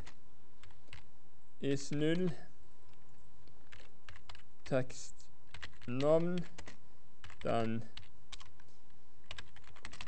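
Typing on a computer keyboard while writing code during a programming lecture, a steady stream of fast clicks running throughout under a man's speech.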